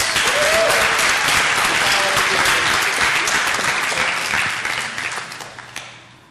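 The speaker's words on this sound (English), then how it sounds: "So Sarah, let's give Sarah a big round of applause" An audience at a school spring instrumental concert claps warmly: dense, sustained applause that is loud at first and gradually thins and fades over about six seconds.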